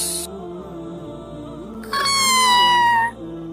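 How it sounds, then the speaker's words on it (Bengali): A cartoon cat gives one clear, drawn-out meow that rises and then fades, heard close against a quiet background hum; nobody talks. "এই বিড়াল, যা যা, হুস হুস"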